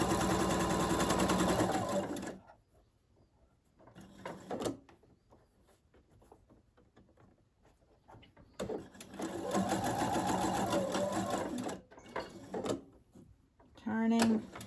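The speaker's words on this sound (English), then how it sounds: "Make sure you're not sewing over your elastic." Sewing machine stitching along elastic in a garment seam, running in steady loud bursts at the start and again midway and near the end, with quieter pauses between where handling noises and a voice can be heard.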